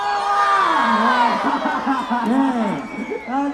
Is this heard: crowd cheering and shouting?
yes